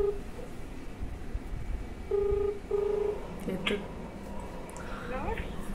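A phone is dialled for a prank call: a few short keypad tones beep in two bursts amid people talking, over a noisy room.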